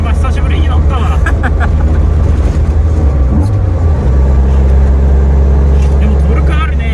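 A spartan car fitted with funnel intakes roars with a loud, steady intake and engine drone from inside the cabin, while people talk over it.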